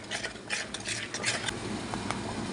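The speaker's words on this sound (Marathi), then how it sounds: "आता हे मसाले आपण व्यवस्थित फेटून घेऊया मिक्स करून घेऊया" Spices being stirred and whisked into a mix for veg biryani, a quick run of scraping, clinking spoon strokes against a bowl, close and fairly steady with irregular bright clicks.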